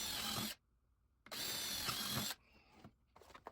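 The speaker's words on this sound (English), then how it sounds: "Find it easier to drill the back plate." Power drill boring into a wooden shelf back plate in a workshop, two loud whirring bursts separated by a pause, followed by fainter handling noise.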